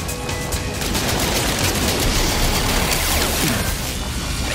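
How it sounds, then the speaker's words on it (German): Rapid gunfire and explosions in the No Man's Sky video game, a dense, continuous barrage of loud shots and bursts running the whole time without pause. "Erfahrungsgemäß zwei Granaten und dann einfach wegballern"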